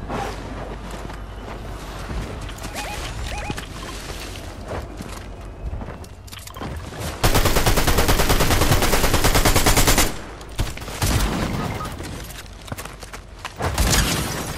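Dense, loud bursts of gunfire from a Fortnite match, including shotgun fire, fill the middle and later stretches, with quieter game noise and footsteps between them and no talking.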